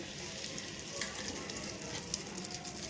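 Asafoetida and red chilli sizzling in hot ghee, a steady close hiss with a few brighter crackles, constant and moderately loud.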